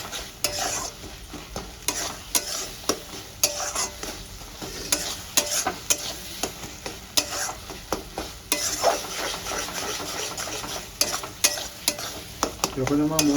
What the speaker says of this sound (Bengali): মশলাটা কিন্তু খুব ভালো করে কষাতে হবে